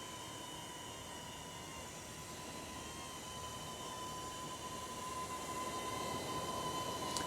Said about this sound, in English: So the drone's coming towards me now.